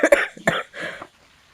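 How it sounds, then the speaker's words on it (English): A person coughs into a microphone: two or three sharp, close coughs in quick succession followed by a short rasping throat-clearing exhale, loud and dry against a quiet background. "who would be coughing in the microphone if it's not your master right now"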